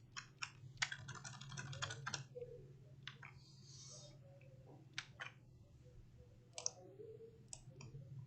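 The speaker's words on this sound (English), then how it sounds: "I'm going to type in a little call to this." Someone types on a computer keyboard, entering Python code in quick runs of soft clicks with short pauses between them, quiet and close over a steady low hum.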